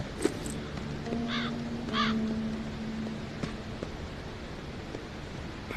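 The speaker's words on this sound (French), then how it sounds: "Toujours le corbeau présent." A crow caws outdoors near a reserve, a few harsh repeated calls standing out clearly over steady wind-like background noise, with faint rustling.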